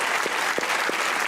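Studio audience applause for cricket coach Bob Woolmer on a comedy talk show, a steady dense wash of clapping that holds for the full stretch without letting up.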